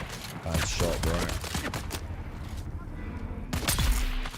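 Video-game gunfire comes in bursts of sharp, loud shots, with several clustered volleys near the start and another burst near the end. Game sounds and voices fill the gaps between them.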